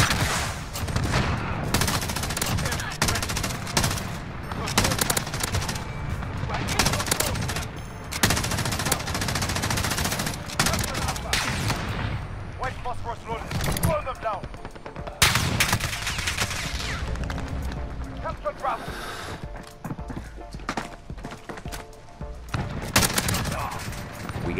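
Gunfire in the video game Modern Warfare, including a Desert Eagle pistol: rapid, loud bursts and single shots crowd together with almost no break, close and aggressive throughout.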